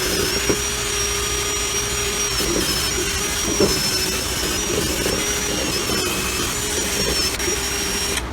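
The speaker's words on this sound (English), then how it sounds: "we moved the cylinder head to the parts washer. We're gonna go ahead and give it a good scrubbing" Parts washer running while a GM LS V8 cylinder head is scrubbed in Safety Clean solvent, a steady loud motorized whir with a high whine, broken by brief scraping and brushing knocks throughout, no voices.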